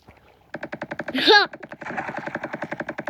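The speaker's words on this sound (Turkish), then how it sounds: "Taramalı tüfek." Rapid bursts of automatic machine-gun fire ring out in a video game, a continuous rattling stream of shots with a brief louder blast partway through.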